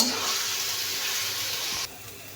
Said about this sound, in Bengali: এখন দিয়ে দিব গরম পানি